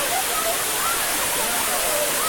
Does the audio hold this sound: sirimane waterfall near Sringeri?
yes